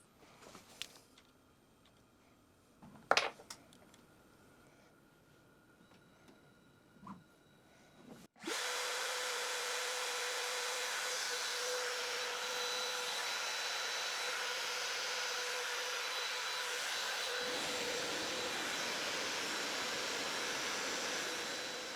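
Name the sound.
CNC router dry run cutting into spoil board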